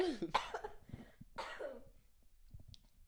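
A person coughs repeatedly after laughing hard, several harsh bursts with throaty breathy tails, close and fairly quiet, trailing into softer breaths near the end.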